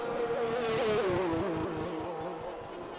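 Williams racing car engine on soft tyres in an online racing game league, a steady high-pitched whine with wavering pitch, droning close and continuously for the whole stretch.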